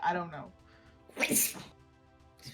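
A single sharp sneeze bursts out in the middle of a tabletop role-playing game session, close and loud, with a short spoken phrase just before it.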